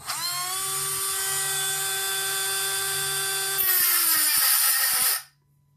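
A Dremel Model 800 rotary tool rated at 35,000 RPM cutting, a loud steady high-pitched whine that climbs in pitch and intensity near the end before abruptly cutting out into silence.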